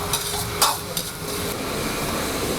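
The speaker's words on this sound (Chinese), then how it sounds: "把芹菜跟洋葱的香度炒出来之后，" Celery and onion stir-fried in a wok in a restaurant kitchen: a steady sizzle of hot oil with a few sharp metallic clinks and scrapes of the spatula against the pan, no voices.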